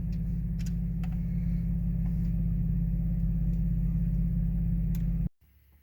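Toyota Tacoma 4.0L with a custom 3-inch exhaust idling in gear, a steady, loud, deep rumble held close by, cutting off abruptly near the end.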